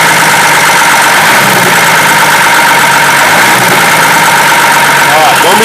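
A Chevrolet D60 diesel truck, running again after four years with a new injection pump and a repaired starter motor, idles loudly and steadily close by, its even rumble holding through the whole stretch.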